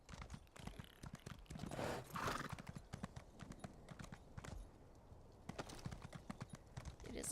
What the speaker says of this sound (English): How my horse is scaling this, I don't know.